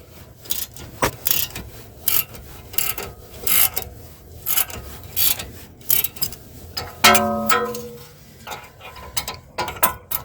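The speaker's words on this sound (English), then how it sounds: "we're only going to use a 18 millimeter on the top and bottom bolts for the bracket" Ratchet with an 18 mm socket working the top and bottom caliper bracket bolts on a Chevy Equinox during a brake and rotor job, giving repeated close clicking bursts with short pauses between strokes.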